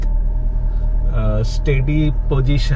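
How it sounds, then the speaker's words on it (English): A Maruti Ritz (Suzuki Splash) engine idles steadily after a throttle body cleaning, with a low, even hum that runs throughout while someone talks over it. "After few minutes, the engine will settle smoothly."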